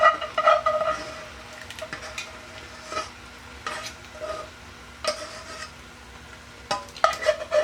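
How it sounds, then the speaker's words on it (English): A spoon scrapes passata pasta sauce from a pan into cooked spaghetti, with several short, uneven scrapes and clinks close by and a faint steady hum behind them. "I'm just going to do a bit of scraping here and just add it back in"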